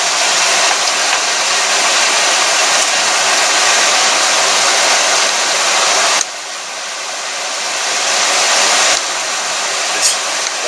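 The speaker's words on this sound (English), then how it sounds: "I'm going to turn the fan on low so it's going to get a little bit loud in here" An electric fan running on its low setting beside a paraffin wax fire starter torch, a loud steady broadband whoosh that dips briefly partway through and then keeps going, with no voice.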